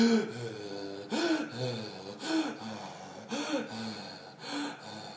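A voice imitates rapid, labored breathing with a series of quick, audible gasping inhalations and exhalations in a steady rhythm, close and clear, as an example of a respiratory problem.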